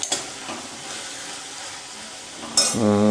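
Seeds fry in oil in a pan while cooking fenugreek greens, giving a steady hiss and sizzle, a few light clinks, and a louder burst of sizzling near the end.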